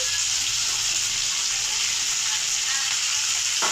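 Capsicum fries in hot oil in a pan alongside curry leaves for chilli soybean, giving a steady, loud, dense sizzle that holds unbroken and close throughout.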